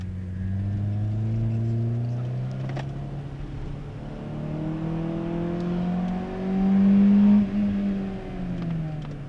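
A Peugeot 206 GTI's air intake roars as the engine is revved, the droning engine note climbing and falling in waves before swelling to a louder peak near the end, close and steady with no talk over it.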